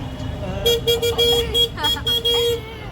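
Auto rickshaw horns toot repeatedly in short bursts through Delhi traffic on the way to Chandni Chowk market, close and loud, over a steady engine and road rumble with voices in the background.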